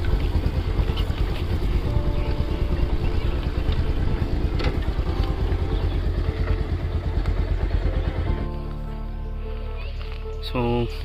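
A motorcycle rumbles steadily at close range as it is ridden, then idles more quietly and settles as it is parked near a waterfall tourist spot.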